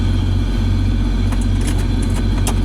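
A 1972 Chevy Custom 10 pickup with a column-shift three-speed and clutch rumbles steadily from close by as it is driven, a constant low drone with faint higher rattles, and no talking over it.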